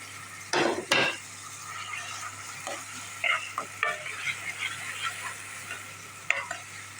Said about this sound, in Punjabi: ਤੇਲ ਹੋ ਗਿਆ ਗਰਮ ਵਿੱਚ ਪਾ ਦਾਂਗੇ ਆਪਾਂ ਪਿਆਜ਼ ਤੇ ਹਰੀਆਂ ਮਿਰਚਾਂ